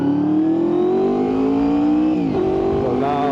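A Honda VFR800fi motorcycle engine drones loudly and steadily while riding, its pitch rising gradually under throttle, with a brief irregular dip near the end.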